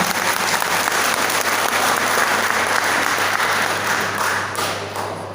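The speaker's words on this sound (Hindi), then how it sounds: "तो एक बार जोरदार तालियां हो जाए।" Loud, dense applause from a large audience at a stage event in Lucknow, steady and sustained throughout before tapering slightly at the end, with no talk over it.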